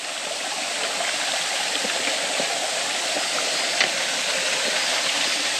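Steady, dense roar of a waterfall dropping about 30 m in a mountain valley, loud and close, continuous throughout with no voices.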